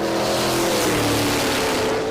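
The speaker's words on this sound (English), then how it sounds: "And both of them light up the tires." Two drag race cars, a big block Chevy and a turbocharged Mustang, spin their tires in a burnout, a loud sustained engine roar with screeching rubber that fades slightly at the end.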